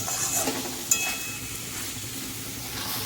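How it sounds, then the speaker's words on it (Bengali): Spices sizzling in hot oil in a pan while cooking a Kabuli chana ghugni, a soft, steady hiss of frying that runs continuously at low volume, with a small clink near the start and no talking. "আমরা এখন মশলাটাকে ভালো করে এখানে যাতে ভেজে নেব"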